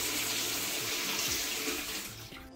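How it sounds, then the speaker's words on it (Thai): Water runs steadily from a tap and drains freely down an unclogged bathroom washbasin, a continuous close hiss and gurgle that fades slightly near the end. "เห็นว่าตอนนี้นะครับน้ำไหลดีนะครับไหลสะดวกนะครับ"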